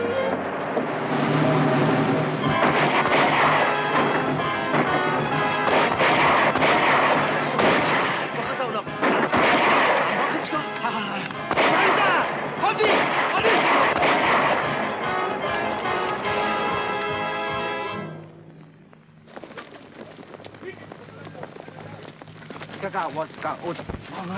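Gunfire and artillery barrage from a 1942 Pearl Harbor war film, dense and continuous for most of the clip, loud booms and rapid shots, then dropping to a lower rumble with lighter bursts near the end.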